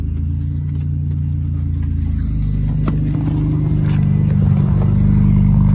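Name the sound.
2000 BMW 323i engine running after fuel pump replacement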